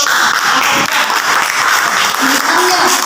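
Loud, continuous audience applause filling the room, a sustained wash of clapping from a crowd with faint murmuring voices underneath.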